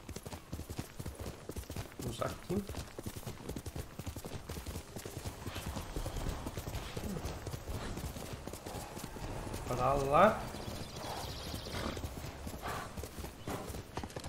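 Horse hooves gallop in a steady rapid clip-clop through the Ghost of Tsushima video game, running under someone talking throughout, with a brief louder burst near the end.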